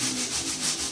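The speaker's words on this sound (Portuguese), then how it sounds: "Para estar lixando, vamos estar utilizando lixa 220" 220-grit sandpaper rubbing over a thin coat of wall putty, a steady close scratchy swishing with gentle back-and-forth surges and no voices.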